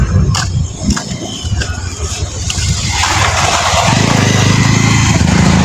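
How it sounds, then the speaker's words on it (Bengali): Motorcycles and other road vehicles rumble through a traffic jam on a broken road, engine noise building steadily from a moderate level to a loud, continuous drone near the listener. "মোটর সাইকেল ফাঁকে ফাঁকে বার হচ্ছে।"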